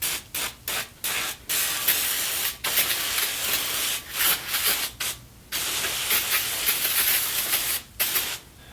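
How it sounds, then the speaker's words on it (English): PB Blaster penetrant is sprayed onto a rusty cast iron table top in a series of close, hissing aerosol bursts, some short and some held for a second or more, separated by brief pauses. "I'm going to cover the surface with PB Blaster"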